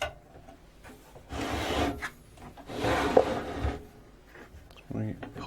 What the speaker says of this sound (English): Right, so let's take this apart. I'll grab my screwdriver.